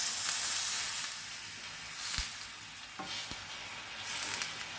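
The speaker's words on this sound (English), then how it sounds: "you're going to take the pork loin," Pork loin browning in hot oil in a skillet, a steady close sizzle with faint crackles and a few soft knocks, no talking.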